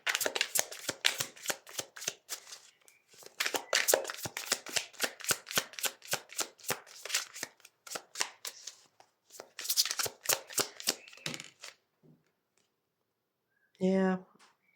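A tarot card deck shuffled in a long run of quick, crisp riffling clicks and flutters, close and fairly loud, pausing briefly before a short burst of speech near the end.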